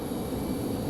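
Spirit Airlines Airbus A320-200 arriving at Raleigh-Durham International from Fort Lauderdale, a steady, fairly loud jet engine roar with a thin high whine on top, brief and continuous.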